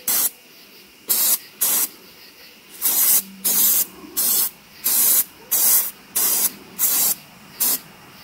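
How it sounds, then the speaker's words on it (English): Brake parts cleaner sprayed onto a Bobcat 238 D mini excavator engine near the injection pump, in about a dozen short, loud hissing bursts of varying length with brief quiet gaps between them. "spray some brake parts cleaner on there"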